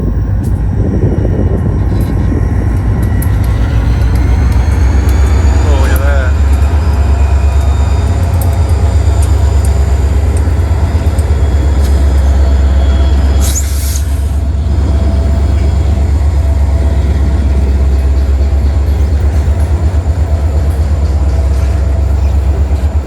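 Freight locomotives hauling a long ethanol train rumble past with a loud, steady low drone and engine hum that fills the whole stretch without letup.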